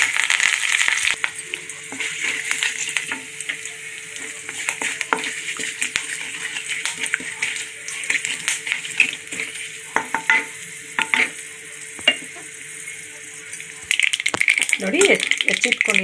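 Mustard seeds, cumin and curry leaves fry in a pan with a steady close sizzle, scattered crackles and pops, and occasional scraping stirs, louder again at the end.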